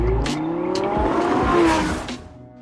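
A car speeds off in an escape, its engine revving hard and climbing in pitch, with brief tire squeal and sharp bursts of noise before the sound fades.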